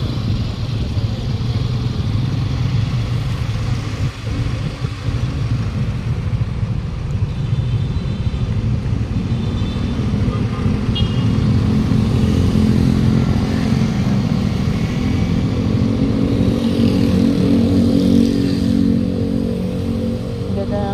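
Cars and motorcycles flow steadily along a street in San Juan, with continuous engine drone and revving close by and a voice talking over the traffic.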